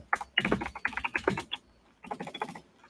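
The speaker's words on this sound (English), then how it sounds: "My new keyboard is loud as fuck." Rapid, loud clacking comes from a noisy computer keyboard being typed on up close, with bursts of keystrokes, a short pause, then another flurry.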